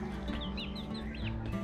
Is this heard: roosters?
yes